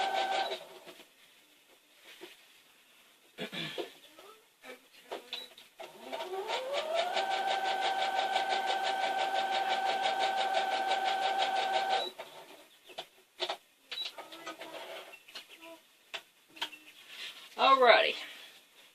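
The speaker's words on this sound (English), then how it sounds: "I'm going to sew 2 of them together. And then I'm going to sew the other 2 together." A sewing machine stitching plastic dog food bags together, a steady mechanical run of about five seconds in the middle, bracketed by quiet handling noises and a brief squeak.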